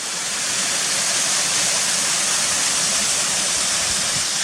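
Waterfall rushing at Ashgill and Cotterforce, a loud, steady broadband roar of falling water, constant and close with no voices.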